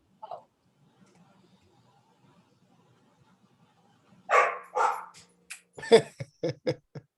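A pet dog at home gives a short run of close, sharp barks and yips after a long quiet stretch, during an online budget workshop meeting.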